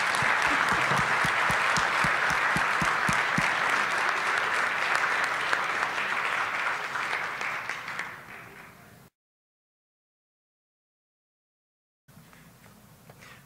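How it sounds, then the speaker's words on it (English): An audience gives a big round of applause at a convening, a full, steady clapping crowd that tapers off over several seconds, followed by silence and then faint room sound. "Thompson a big round of applause."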